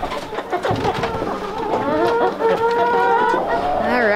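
Chickens at a homestead cluck and call repeatedly, close and lively, with several overlapping bird voices and a background of outdoor noise.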